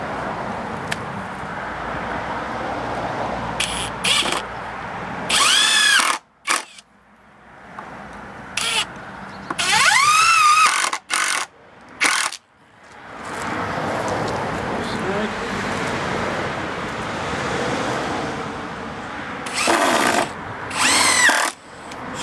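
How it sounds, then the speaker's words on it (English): A power drill bores pilot holes in scrap wood for a spoon carving mule, in several short bursts of whining spin separated by brief pauses, close and loud over a low background. "I'll drill the pilot hole"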